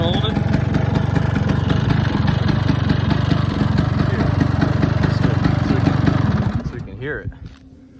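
An Uberscoot Evo 2x scooter fitted with a 6-port Stroker GP470 engine runs at its first start, a loud, rapid two-stroke putter close by that drops away near the end as it shuts off.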